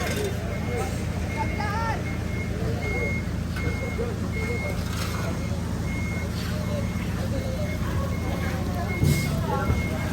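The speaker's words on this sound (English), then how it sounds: "Loading the lorries." Lorries being loaded at a port, a steady reversing beep repeating over rumbling truck engines and general loading noise, with people talking in the background.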